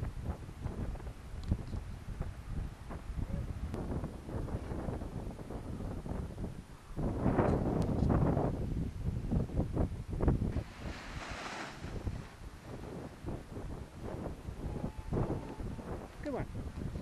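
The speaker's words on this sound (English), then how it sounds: "The wind just picked up a bit." Wind gusts across a microphone at a coastal paragliding launch on a bluff at Sandringham, Victoria, Australia, rumbling continuously and swelling stronger for a stretch midway, with faint surf-like noise beneath.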